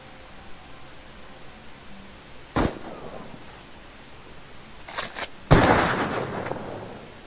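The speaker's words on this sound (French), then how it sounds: "vous entendez les coups de feu au loin" Distant gunshots in a Victorian horror role-playing game setting, a few sharp isolated cracks spaced seconds apart over a faint hissing background, the last blast louder with a short decaying tail.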